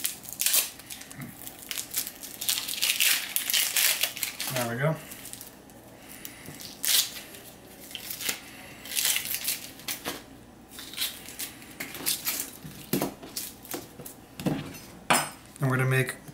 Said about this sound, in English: So again, we're going to cut the skin off.